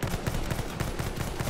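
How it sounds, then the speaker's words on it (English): Rapid gunfire in the Battlefield 1 video game, a fast run of sharp repeated shots in an even automatic rhythm, fairly close and sustained across the whole moment. "Somebody's shooting at me."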